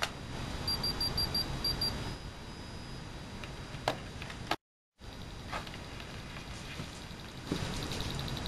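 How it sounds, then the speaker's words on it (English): A dual-channel serial data logger with timestamp ticks faintly as it writes to its card, scattered sharp clicks over steady electronic hiss, with a brief dropout midway. "The ticking sound is like data writing to a disk drive."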